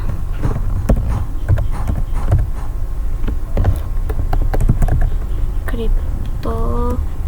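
Computer keyboard keys click in quick irregular bursts while commands are entered for Cisco remote access setup, close and crisp under someone speaking.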